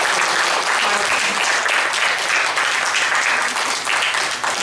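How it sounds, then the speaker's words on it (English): Sustained applause from a conference audience thanking the Secretariat at an Asia-Pacific consultation meeting, dense and steady clapping filling the room throughout without pause. "So please join me in giving the Secretariat a round of applause."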